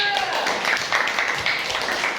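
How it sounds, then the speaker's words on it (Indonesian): A classroom of students clapping hands together, a dense, steady patter of many small claps filling the room at fairly close range, with some voices mixed in. "Tepuk tangan dulu"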